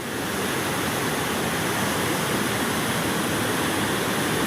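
Water gushes with great force through Wawa Dam, a loud, steady roaring rush that fills everything without a break, with no voices heard over it.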